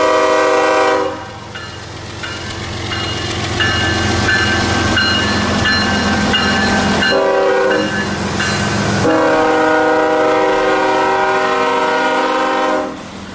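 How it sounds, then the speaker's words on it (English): An empty coal train hauled by two big locomotives climbs uphill, with a loud horn blast over steady engine roar and rail clatter that builds and holds close by. "K984's engineer has no problem getting the two big engines up to limited speed with that empty"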